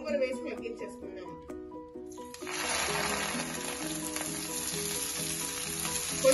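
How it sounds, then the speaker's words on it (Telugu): Gongura (sorrel) leaves sautéing in hot oil in a pan, a steady loud sizzle that bursts in partway through and continues evenly, with a voice talking over it. "ఇప్పుడు ఒక ముక్కుల్లో నూనె వేసి వేడి చేశాను, వేడెక్కింది. ఈ గోంగూర వేసి మగ్గించేసుకున్నాను."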